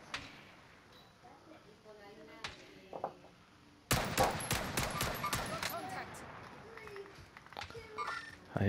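Gunfire in a Warzone match: after a quiet stretch with a few isolated shots, a close, loud burst of rapid automatic fire erupts and keeps going in ragged volleys while players talk.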